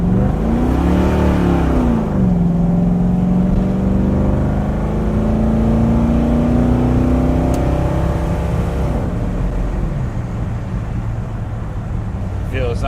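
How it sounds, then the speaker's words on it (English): Ford Falcon wagon, a high school project car, doing short burnouts: a loud, close engine revving with a rising, sliding drone that climbs for several seconds, then drops back to rough idle, with tire noise mixed in and someone talking over it. "So I'm doing little burnouts here and there to try to get the tires round again"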